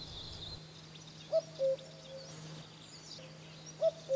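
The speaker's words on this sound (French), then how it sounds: "C'est le coucou." Common cuckoo calling from a nearby forest, its two-note cuckoo repeated twice, clear but moderately distant over a quiet, low background hum.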